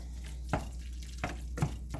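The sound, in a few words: stirring sloppy janes sauce with vinegar, Worcestershire and sugar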